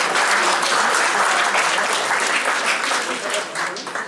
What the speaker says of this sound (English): So a big round of applause for the MTech.